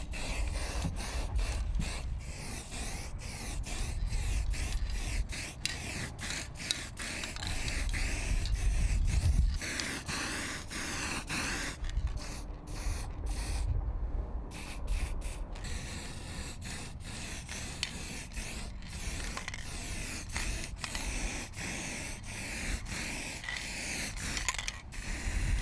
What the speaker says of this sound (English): Won't fix everything with a spray can, but it definitely improves the look.